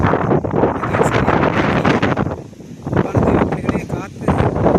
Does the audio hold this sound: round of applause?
no